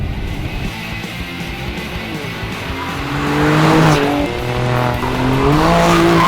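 Alfa Romeo Stelvio QV, a 2022 Italian sports SUV, accelerating hard at speed, with engine pitch climbing and stepping through gear changes, loud and close and rising in intensity midway, with no one talking.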